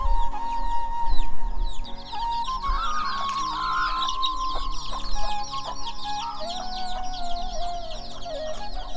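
Chickens cluck steadily nearby at a village home where ducks are also kept, several birds overlapping in a busy chorus, with a low background hum and occasional thumps.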